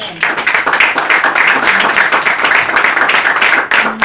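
Congregation applause fills a church, a dense, steady wash of many hands clapping at close range that holds for about four seconds before a brief dip and return.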